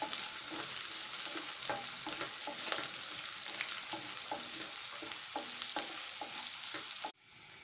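Chopped shallots and green chilies sautéing in oil in a pan for a prawn gravy, a loud continuous sizzle broken by repeated scraping stirs of a spoon, cutting off abruptly near the end.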